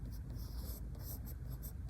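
Pen tip scratching across paper in short repeated strokes while drawing round flower petals, soft and close, with a faint low background hum.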